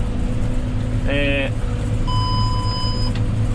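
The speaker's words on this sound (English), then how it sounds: "I'm just getting the beep to say that we're down to the last 250 kilos in the spreader." A fertiliser spreader's warning beep in a silage field, one steady electronic tone lasting about a second over the low rumble of a tractor engine, preceded by a short harmonic chirp.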